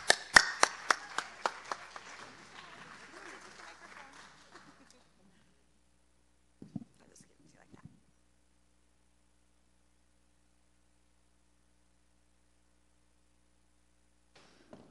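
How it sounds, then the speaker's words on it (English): Audience applause with sharp clapping bursts that fade over the first few seconds, followed by near silence and a couple of faint taps later on. "let's give them a big round of applause"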